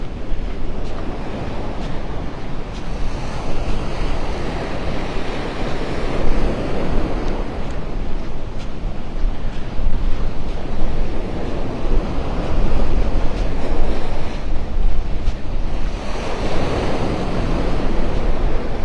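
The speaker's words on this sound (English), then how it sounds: "The waves are a little bigger here along the shore" Ocean surf breaks steadily along a beach shore at Vanderbilt Beach in North Naples, with wind buffeting the microphone throughout; the waves swell and wash in continuous, loud rolls with no voices.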